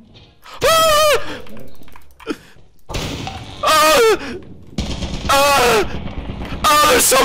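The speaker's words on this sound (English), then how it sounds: "There's so many turrets! There's so many turrets! They're everywhere!" Turrets firing in the video game Lethal Company, heard as loud bursts of rapid automatic gunfire repeating at intervals, with a player shouting and talking over and between the volleys.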